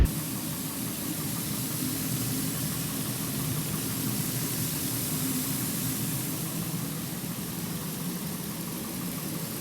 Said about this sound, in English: I'm just gonna back it out of the garage.